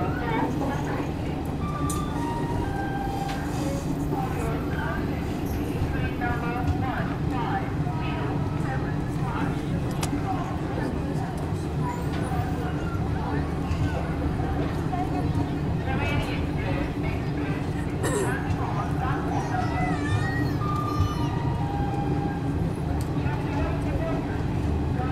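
Garib Rath express train between Kanpur and Kathgodam, heard from onboard after leaving Bareilly: a steady, loud rumble of wheels and carriage noise with rhythmic clatter throughout, while people talk in the background.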